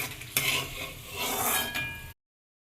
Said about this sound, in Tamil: பூண்டு கொஞ்சம் சேர்த்து வணக்கி எடுத்துக்கலாம்